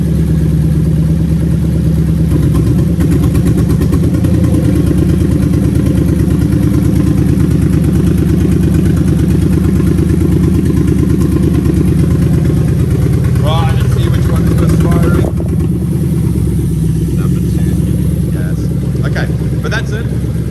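A Toyota UZ-FE VVT-i V8 engine idles at around 1000 RPM, a steady, close, low rumble that runs throughout, with someone talking over it and some light clatter near the end.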